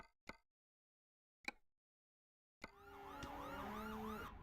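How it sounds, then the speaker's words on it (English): An ambulance siren wails in Euro Truck Simulator 2, with a rapid rising-and-falling pattern. Two sharp clicks with silence between them come first, then the siren starts abruptly and keeps sounding steadily to the end. "seems like we also have, is it an ambulance?"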